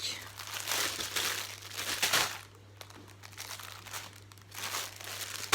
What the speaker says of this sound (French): les sachets ils sont bien froissés